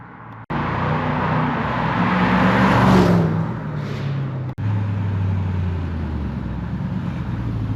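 A Lexus SC430 cruises along the road, a steady broadband rush of engine and road noise heard from close inside, with a short break midway before the drone resumes.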